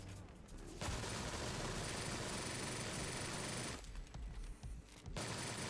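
A PPSH submachine gun fires in the video game Sker Ritual: loud, sustained automatic bursts with rapid dense shots, a short break near the end, then firing resumes.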